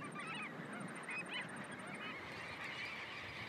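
A flock of bar-tailed godwits at the Miranda shorebird roost on the Auckland coast calls in a faint, distant chorus of overlapping honking, agitated notes over steady background noise, with no talk.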